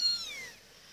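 A cat gives a single short, fairly close meow that falls in pitch and fades, with no talking.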